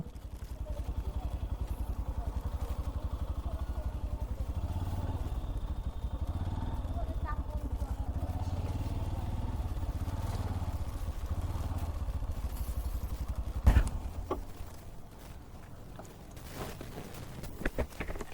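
A motorcycle engine idles with a steady low rumble throughout, a person speaking over it, followed by a brief clatter and quieter running.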